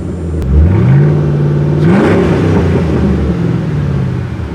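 Ford Mustang GT 4.6 liter three-valve V8 fires up and revs, a loud close rumble climbing sharply once and then settling back to a lumpy idle.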